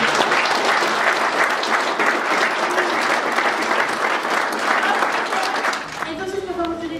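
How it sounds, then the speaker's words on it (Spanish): Loud, sustained applause from a seminar audience at a talk on responsible solvent use, dense clapping throughout before thinning out near the end as a voice begins speaking. "me gustaría que todos se regalaran un aplauso"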